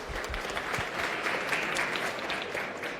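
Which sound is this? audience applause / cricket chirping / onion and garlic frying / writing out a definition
audience applause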